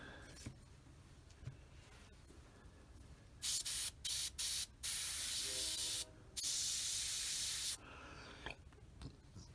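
Spray paint hisses onto plastic wings of a Tamiya 1/48 F4F-4 model airplane in several close, steady bursts, four short ones followed by two longer sustained sprays, with quiet pauses between.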